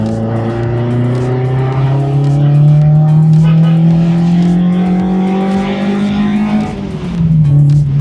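A car engine hums steadily from inside the cabin while driving, its pitch rising gradually as it accelerates, then dipping briefly near the end before picking up again, loud and continuous with no talk.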